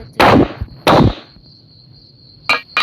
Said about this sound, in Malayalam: ചന്ദ്രനെ ഷൂട്ട് ചെയ്യുന്നറേ.